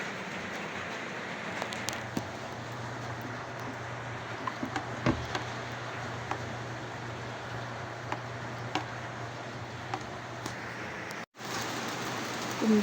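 Heavy rain pours down steadily in a dense, continuous hiss with scattered drop impacts, a strong downpour close by with no voices.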